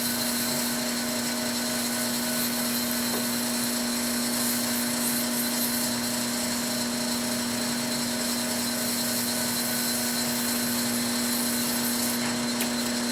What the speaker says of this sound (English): and then I start the wet sanding.